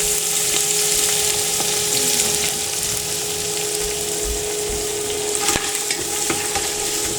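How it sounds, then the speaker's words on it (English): About three onions frying in hot canola oil in a pot outdoors, a loud continuous sizzle with occasional clanks and scrapes as they are stirred, no talk. "in the pot here I've just got some hot oil, just canola. And we're going to pop in about 3 onions."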